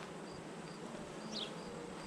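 Honey bees buzz at an open hive during an inspection, a steady dense hum close by with a brief louder whine as one passes near.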